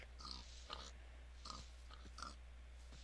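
A pig in the Minecraft video game gives several short, nasal grunts and snorts spaced about a second apart, fairly close but quiet over a steady low electrical hum.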